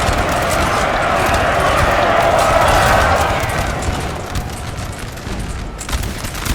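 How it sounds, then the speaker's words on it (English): Massed musket volleys from a Napoleonic battle, the 1813 Battle of the Nive in Napoleon Total War, a rolling crackle of distant fire swelling and fading under a low battlefield rumble. "Nasty volleys going off there"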